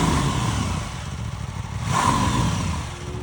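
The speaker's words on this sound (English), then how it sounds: "Another effect of that firing order is the fantastic sound that this bike makes." A Norton Manx R motorcycle engine runs with a loud, raspy tone, swelling in a rev partway through before easing back, heard close and alone.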